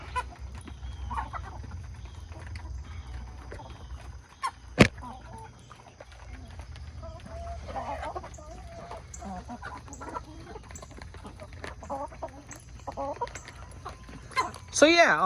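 Backyard chickens and a rooster cluck and murmur steadily through the scene, close and moderate in level, with a sharp knock and some scattered noise; a person talks over them at times.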